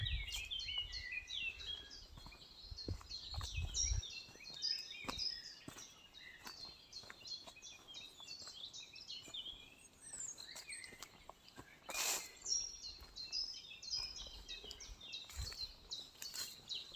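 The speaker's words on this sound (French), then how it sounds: "Un peu jungle là, avec le son des oiseaux, j'espère que vous entendez bien." Birds singing and chirping in dense, jungle-like woods, many overlapping calls near and far, with occasional footsteps and light rustling underneath.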